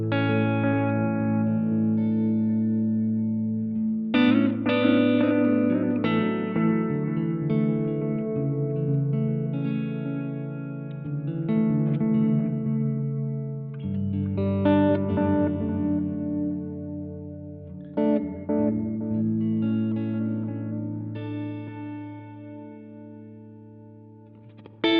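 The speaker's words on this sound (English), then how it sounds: "A little more mix so we can hear the delay better. I mean the trails of the delay." An electric instrument plays sustained notes and chords through an Asheville Music Tools ADG-1 analog delay pedal with the mix turned up, each phrase trailing off into warm, repeating echoes that blur and decay over about half a minute.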